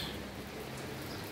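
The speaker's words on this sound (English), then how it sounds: "It's rain. It's rain." Steady rain falling in Aparecida de Goiânia, a soft continuous hiss of drops on surfaces, faint and even throughout with no voices.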